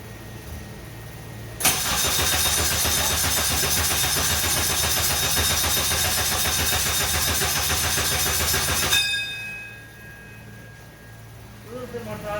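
A Mitsubishi Starion with a swapped-in Honda K-series engine cranks and catches with a loud burst on its first start, runs roughly for several seconds, then drops away to a quieter background.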